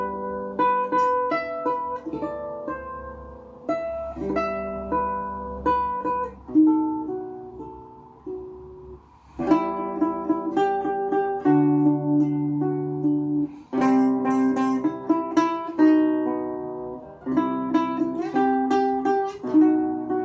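A guitar picks out the melody of La Llorona over sustained chords, notes ringing clearly in a steady, unhurried phrase with no voices.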